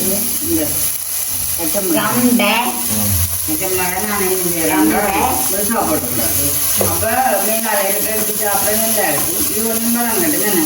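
Curry leaves sautéing with tomatoes in a pan in a Jaffna home kitchen, a steady continuous sizzle and hiss running under someone talking throughout.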